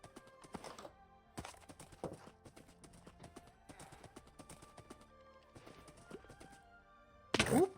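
Horse hooves clip-clopping in a Minecraft game, short bursts of clattering steps separated by gaps, moderately close, ending in a louder sharp burst.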